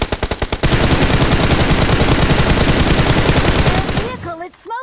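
Rapid automatic gunfire in the battle royale game PUBG Mobile, loud and close, rattles continuously for about four seconds before cutting off, leaving a voice talking at the end.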